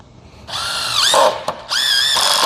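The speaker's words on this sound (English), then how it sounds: "You want to hear that drill louder." A power drill runs in loud, steady bursts of high whine, stopping briefly and starting again, while wood is worked to build a wall.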